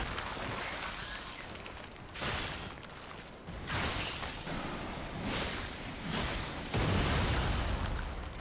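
Loud, broad blasts from an explosion in the action game Lies of P, with several bursts at roughly two, three and a half, and six and a half seconds over constant heavy noise, the last one the strongest.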